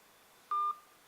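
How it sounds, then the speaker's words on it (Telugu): A single telephone keypad dialing tone: one clean, steady beep of about a fifth of a second, close and alone over faint background hiss. "మందాల భాస్కర్ అన్నకు ఫోన్ చేసి చూద్దాం."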